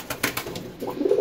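A pet pigeon coos in a short, soft, throaty burst of rolling notes, heard close and alone inside a moving car.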